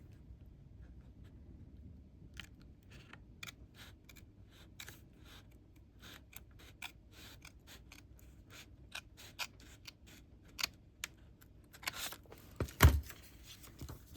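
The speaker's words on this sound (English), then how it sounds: "Hopefully this will work with my scissors." Quiet, repeated snips of scissors cutting through junk-mail paper, irregular and close, growing a bit busier toward the end.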